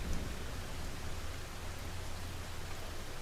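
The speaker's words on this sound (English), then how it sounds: "Listen to the sound of the rain" Steady rain falls in an even, broadband hiss, soft and continuous with no distinct drops or voices.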